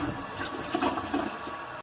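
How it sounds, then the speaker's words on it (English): A toilet is flushed again while being drained before its wax seal is removed, giving a steady, close rush of swirling water that lasts the whole moment without talk. "I'll give it another flush there."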